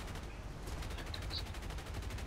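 Anti-aircraft flak fires in the War Thunder video game as a quick run of rapid, evenly spaced bursts, fairly loud and without pause over a couple of seconds.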